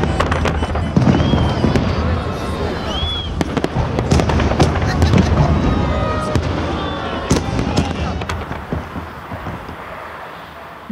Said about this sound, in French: Cette journée singulière se termine par un immense feu d'artifice dans le ciel de Saint-Pétersbourg.